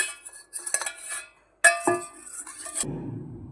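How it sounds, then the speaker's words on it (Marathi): Metal spoon scraping and clinking against a vessel while spreading curd around its inside, sharp close scrapes in two bursts, then a softer rough smearing sound at the end. "1 चमचा दही टाकलंय मी, त्याचा सगळीकडे पसरवून घेऊया पूर्ण भांड्याला।"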